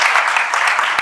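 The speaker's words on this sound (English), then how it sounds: "So I want to have you join with me in giving him a round of applause." An audience claps for an ambassador at a public conversation event, a loud, dense burst of hands heard up close for about a second.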